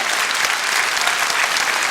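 Steady, dense applause from a large concert audience in the Kremlin hall, loud and continuous with no gaps.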